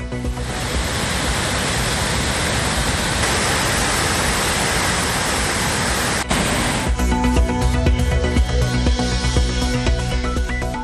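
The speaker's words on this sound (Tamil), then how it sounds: "குமரி மாவட்டம் திருப்பரப்பு அருவியிலும் தடையால் சுற்றுலா பயணிகள் ஏமாற்றம்" The flooded Thiruparappu waterfall in Kumari district thunders in a continuous loud roar. Near the end the texture turns rougher and more uneven, and no talking is heard.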